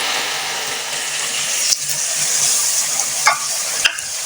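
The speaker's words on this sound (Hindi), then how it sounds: "टमाटर को हम मिक्स कर लेंगे।" Tomatoes being stirred into chicken frying in oil in a handi, with steady sizzling and scraping stir strokes up close, a few sharper clinks of the spoon against the pan.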